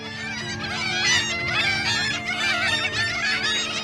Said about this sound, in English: this noisy colony of birds fighting over their bit on the cliff